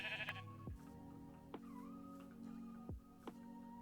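Sheep in the video game Minecraft bleating several times, short wavering bleats spaced about a second apart, fairly faint, with no one talking over them.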